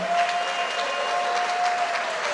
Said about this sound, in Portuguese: vamos dar para Jesus uma linda salva de palmas